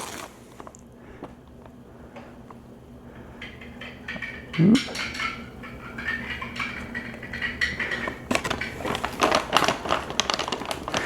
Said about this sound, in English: So 2 scoops in the bottle itself.